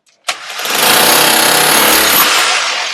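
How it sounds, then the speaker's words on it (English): Power drill machine fitted with a chisel tool breaking away material, a loud continuous hammering roar that starts abruptly and holds steady for a few seconds, close to the microphone. "So I will break it away with this tool, which is on the same drill machine."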